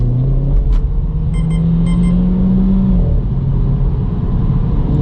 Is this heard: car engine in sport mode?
yes